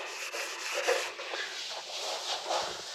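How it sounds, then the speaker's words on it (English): Close, continuous rubbing of sandpaper held flat by hand on motorcycle parts before painting, scratchy strokes rising and falling in a loose rhythm, with no voices. "keep your fingers at an angle to the work and keep your sandpaper"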